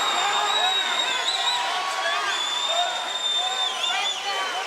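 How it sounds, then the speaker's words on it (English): A hometown crowd cheers steadily at a women's MMA fight, a dense roar of voices and whoops that holds throughout with scattered shouts rising above it. "Hometown crowd's cheering now that she's back on top."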